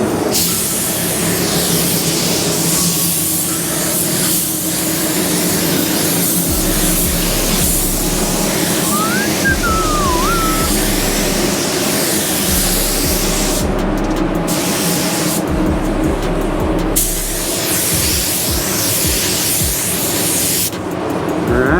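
A Harbor Freight Black Widow spray gun lays down a coverage coat of paint, a loud continuous airy hiss over a low compressor rumble, broken by several short pauses between passes.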